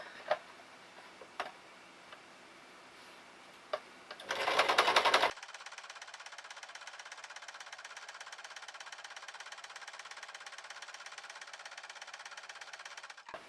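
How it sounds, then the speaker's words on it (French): A sewing machine stitches fabric for a tissue case, running in a steady, close, continuous whir for several seconds after a brief louder burst and a few isolated ticks. "on s'arrête au coin, on laisse l'aiguille dedans, on soulève le pied, on tourne le tissu, on baisse le pied et on recommence"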